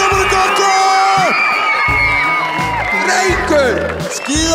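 Spectators at the AK Extreme 2015 ski competition cheer the winner with loud whoops, shouts and yells layered over crowd noise. Voices call out close by throughout.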